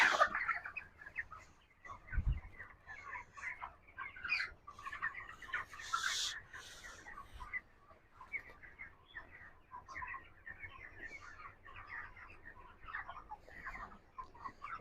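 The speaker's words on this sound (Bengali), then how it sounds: "দেখেন এখানে মুরগিগুলা।" Broiler chickens in a poultry farm cluck and chatter in a busy, overlapping flock chorus at moderate distance, with a few sharper calls standing out over a low barn hum.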